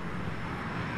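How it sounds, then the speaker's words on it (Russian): Military helicopters pass overhead in the S.T.A.L.K.E.R. game over Pripyat, heard as a steady, dense engine roar with a breathy, windy wash, continuous and fairly close. "Почти сразу после входа ГГ в Припять над ним пролетают военные вертолеты."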